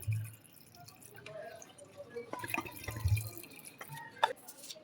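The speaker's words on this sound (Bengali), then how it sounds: "দিয়ে দেবো জল" Water goes into a pot of overnight-soaked chickpeas with whole spices, making faint, close trickles and scattered drips against a quiet kitchen.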